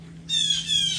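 A blackbird calls nearby in an outdoor yard, giving two bright, harsh chattering squawks in quick succession over a steady low hum.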